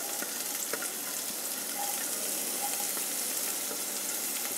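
A bay leaf and onion fry in a pan for chickpea masala, giving a steady hiss and sizzle throughout with a few faint clinks of stirring, fairly close and unbroken by talk.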